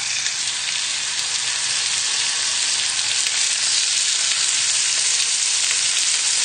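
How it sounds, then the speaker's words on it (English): Cod fillets fry in a little hot oil in a pan, giving a steady, close, loud sizzle with fine crackles and no break. "just place your cod fillets just away from you into the pan"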